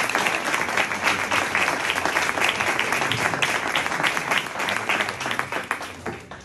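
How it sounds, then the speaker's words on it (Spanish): An audience at a book presentation applauds the moderator, with full, dense clapping throughout that thins slightly and fades toward the end. "vamos a aplaudir al moderador."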